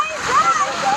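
Water splashing at a water park, a bright close spray of splatter heard alongside excited voices of people playing.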